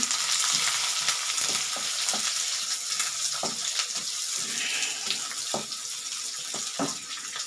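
Garlic and small onions fry in a pan for onion chutney, giving a steady, hissing sizzle throughout with soft intermittent stirring taps, heard close.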